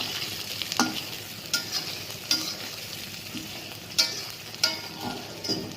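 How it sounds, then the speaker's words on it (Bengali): Whole fenugreek seeds sizzle in hot oil in a pan for a fish dish, a steady faint crackle with a few sharper pops and stirring scrapes, close and alone with no talk. "এক চিমটি গোটা মেথি দিয়ে দিচ্ছি।"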